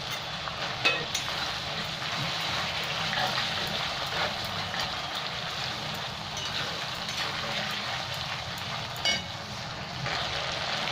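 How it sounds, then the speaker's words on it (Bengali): Ginger and garlic paste frying with a little water in a pan for chicken biryani, a soft, continuous sizzle and bubbling hiss, fairly quiet, with a couple of faint clinks. "অল্প একটু জলও দিলাম, তাহলে ভাজাটা ভালো হবে রসুন আদা রসুনের"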